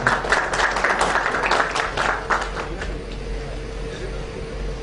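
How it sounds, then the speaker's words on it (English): An audience at a hospitals and healthcare delivery conference in Maharashtra applauds a guest coming to the stage. The dense clapping is strong at first, then thins and fades away into room tone within a few seconds. "A round of applause for her."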